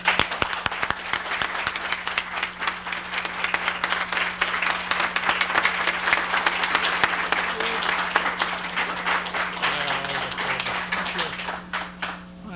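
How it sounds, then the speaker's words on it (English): A room of attendees applauds steadily for an honoree at a 1999 community television station annual meeting and awards, dense clapping sustained for several seconds before thinning toward the end. "So please, can we give a big round of applause to Myer Brill."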